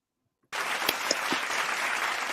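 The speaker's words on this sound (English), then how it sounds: "I'm so happy about this applause button, y'all." Applause sound effect triggered from an applause button: a sudden burst of clapping and crowd cheering that starts after a brief silence and holds steady, loud and close.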